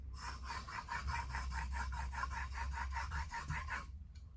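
A woodworking tool is honed on a sharpening stone in steady forward strokes, about a dozen rhythmic rasping rubs, close and fairly quiet, with no talking.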